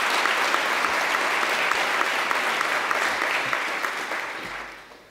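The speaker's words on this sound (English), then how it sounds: "Big round of applause, please." A conference audience at a Python lightning-talk session gives a big round of applause, thick steady clapping across the room that holds for several seconds and then fades out.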